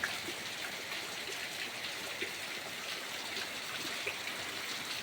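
Heavy overnight rain pours down steadily in a dense, continuous hiss, close and even, with no talk.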